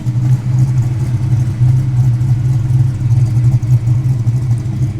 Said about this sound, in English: show a bit of that B-cam idle